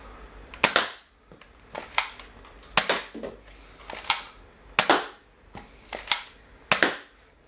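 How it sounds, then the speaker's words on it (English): A Nerf Rebelle Sweet Revenge blaster fires foam darts at a pile of boxes, giving about nine sharp, loud pops in an uneven rhythm, each a crisp snap with a short rattle, with no talking. "now I'll just be firing it at my mess of boxes over here"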